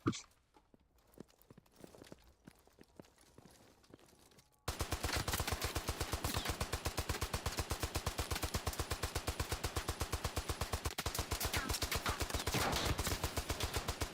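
The heavy weapons guy's gun in a video game: after a few seconds of quiet clicks, it breaks into a long, loud, unbroken rapid-fire burst of evenly spaced shots that holds to the end.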